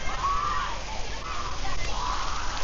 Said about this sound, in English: All the kids here playing with the water area.